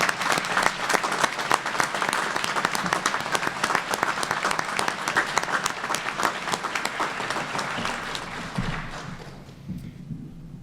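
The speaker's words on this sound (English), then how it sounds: "Let's give them a round of applause." Sustained applause from a large audience at a graduation ceremony, dense clapping that holds steady and then fades out toward the end.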